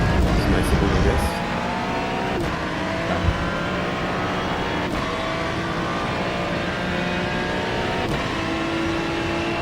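Race car engines in the iRacing 24 Hours of Spa hold a steady, loud drone with gear shifts, and a Ferrari passes close by. A brief voice is heard early on.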